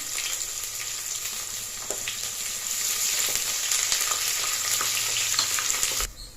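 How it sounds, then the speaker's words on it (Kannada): Chopped onions fry in a hot pan with spices for a vegetable rice bath, giving a steady, loud, close sizzle that runs unbroken for several seconds and drops off sharply at the very end, with no talking. "ಈಗ ನಾವು ಕಟ್ ಮಾಡಿ ಇಟ್ಕೊಂಡಿರೋ ಈರುಳ್ಳಿನ ಹಾಕ್ಕೋತಾ ಇದ್ದೀನಿ ಹಾಕೊಂಡು ಗೋಲ್ಡನ್ ಬ್ರೌನ್ ಬರೋದು ಫ್ರೈ ಮಾಡ್ಕೊಳ್ಳಿ"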